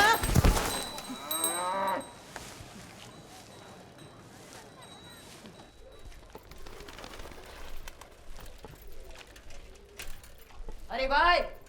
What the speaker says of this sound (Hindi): गुलाब बहन, हमारे मोहल्ले में इंसान कम और भैंसें ज्यादा रहती हैं